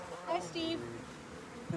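Honey bees buzzing during a hive inspection, a faint steady drone with a few brief louder passes close by, set against low background voices.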